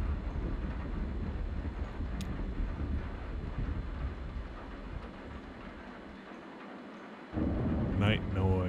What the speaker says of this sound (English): I just listen to this rain.